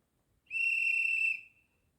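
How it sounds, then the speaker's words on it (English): A guard's whistle from a DCC sound decoder in an Accurascale class 55 Deltic model locomotive gives one clean, shrill blast of about a second, loud and close, with no speech. "The infamous guard's whistle on F10."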